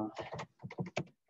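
Quick bursts of computer keyboard typing while entering a pip install command for the Matplotlib library, about a dozen close, crisp key clicks in uneven clusters with brief pauses between them.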